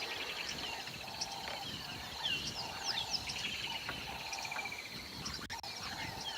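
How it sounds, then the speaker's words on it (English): Morning bird chorus in the African bush just after rain eases, with weavers and doves among many birds calling: repeated chirps, trills and whistles at moderate distance, layered over a constant insect drone. "You can hear there's quite a lot of birds that are active this morning now that the rain has eased a bit."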